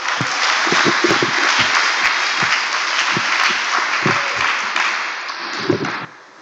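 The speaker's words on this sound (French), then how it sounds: "On s'applaudit pour la foi qu'on a eue ce matin." A congregation at a joint church service applauds in a full, sustained round, with a few sharper nearby claps standing out before the applause fades away at the end.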